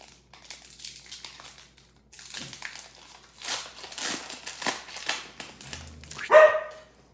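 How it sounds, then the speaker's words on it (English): A dog barks indoors, a short loud burst of barking near the end after a stretch of rustling and crinkling of card packs, fairly close to the listener. "No barking."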